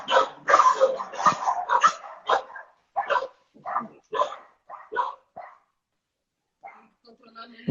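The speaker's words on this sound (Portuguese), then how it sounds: "eu tô ouvindo o cachorro latir" A dog barks repeatedly in short bursts, a rapid run of sharp yaps and yips with brief pauses, fairly close, then quiets.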